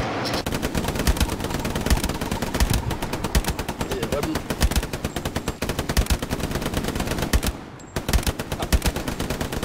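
Rapid machine gun fire in the World War II shooter game Hell Let Loose, dense repeated bursts of sharp loud shots rattling close throughout, with a short pause near the end, no speech over it.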